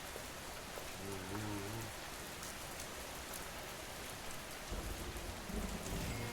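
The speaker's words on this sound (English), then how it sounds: "I like the rain sound," Steady rain from the weather in the video game Schedule I, a soft continuous hiss with a distant rumble of thunder, running alone throughout with faint music-like tones at start and end.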